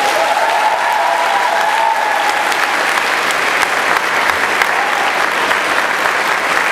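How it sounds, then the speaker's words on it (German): Sustained audience applause fills a German anime convention hall for the group Visual Kiss, loud and dense throughout with a faint crowd murmur beneath. "Nochmal einen kräftigen Applaus für Visual Kiss."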